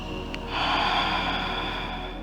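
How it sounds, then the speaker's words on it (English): Audible ocean-style yoga breath, a single slow exhale through the mouth with a soft, airy hiss that swells after a brief inhale, close and steady at moderate loudness with no talk. "We will start with a breath called the ocean breath"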